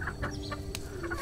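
Gray pullet chickens clucking close by in a short burst, several soft clucks and calls overlapping above a steady low hum, with no talking.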